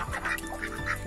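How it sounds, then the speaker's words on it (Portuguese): Crested pompom duck quacking several times in quick succession, nasal honking calls heard close by, with faint background noise. "Pato de pompom"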